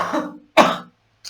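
Two close, sharp bursts of coughing and throat clearing from a man who has been talking at length, separated by a short silence, with the start of a third at the end.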